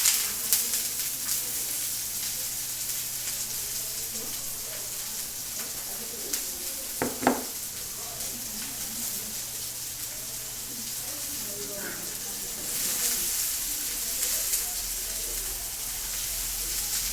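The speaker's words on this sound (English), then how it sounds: "I'll start off again by sauteing the onions, peppers, and the tomatoes" Onions, peppers and tomatoes sauté in a pan, giving a low steady sizzle through the whole stretch with a couple of sharp utensil knocks midway and occasional stirring scrapes; fairly quiet and close.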